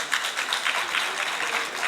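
An audience at a legal council meeting about law school campuses claps in a steady, dense patter that holds at an even moderate loudness throughout.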